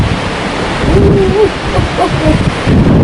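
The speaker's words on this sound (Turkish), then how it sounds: "Antalya bugün aşırı esintili." Strong gusty wind buffets a microphone outdoors in Antalya, Turkey, just after rain, producing a loud, fluctuating rumbling roar over a few seconds with no talk.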